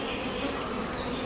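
Dense, steady buzzing of thousands of honey bees swarming around an open beehive, loud and continuous with no voices.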